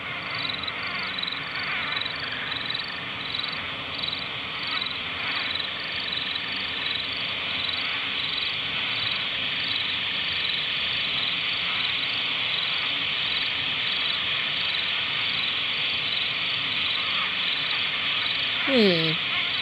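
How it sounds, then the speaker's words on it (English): Cicadas in the Kentucky Route Zero video game form a dense, continuous high chirring drone across an outdoor game landscape, steady and unbroken, with a faint rising sweep near the end. "Sounds like there's some cicadas there."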